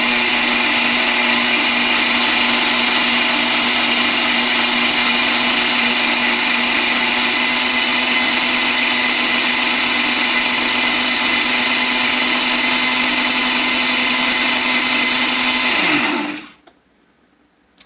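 A Ninja BL480D Nutri personal countertop blender runs at a loud, steady, high-pitched whir for about sixteen seconds, near and alone, then cuts off abruptly into quiet with a brief click.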